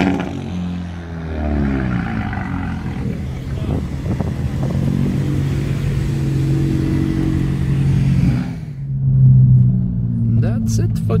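Car engines roar and drone nearby at the Nürburgring race track, rising and falling as vehicles pass, with people talking over the noise.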